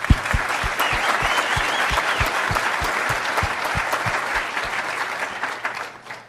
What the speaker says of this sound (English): So, if you will, clap with me.